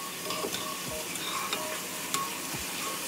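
Spoon stirring sliced garlic into tonkotsu ramen broth in an Instant Pot, soft steady scraping and light clinks against the metal pot over a faint sizzle, close and quiet with no voices.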